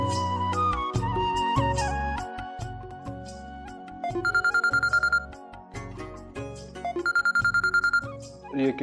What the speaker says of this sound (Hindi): ये किसका आ गया फोन?